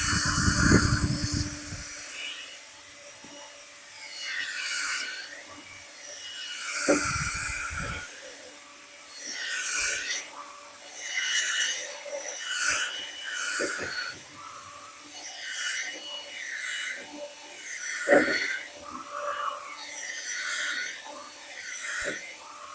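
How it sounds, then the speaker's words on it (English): A power drill spins a dryer vent cleaning brush clockwise through a dryer duct, giving a steady scraping, rasping whir that rises and falls in repeated pulses for about twenty seconds, with a few brief louder knocks. "make sure you're just running the drill in the clockwise direction."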